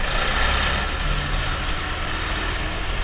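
A truck hauling corn rolls up onto an elevator scale, a loud, steady engine rumble under broad road and air noise with a faint tonal beep partway through.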